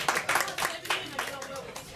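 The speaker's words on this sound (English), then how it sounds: "So can I just have a round of applause," A small audience at a talent show gives a brief round of applause, scattered uneven hand claps rising and fading over a couple of seconds.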